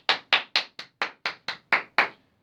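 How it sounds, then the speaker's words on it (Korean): An audience claps hands in unison, nine crisp, evenly spaced claps in a steady rhythm, loud and close, with no talk between them. "박수 박수 박수"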